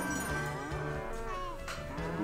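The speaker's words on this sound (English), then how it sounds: "It makes different cow noises depending on the direction that you move it" Electronic cow moos from a critter box toy in the Imagine Babyz video game, a few drawn-out bellowing calls that shift in pitch one after another, close and clear with no talking.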